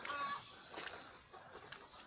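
A neighbour's chickens cluck softly in the distance at an allotment, a few scattered bird calls over a faint outdoor background.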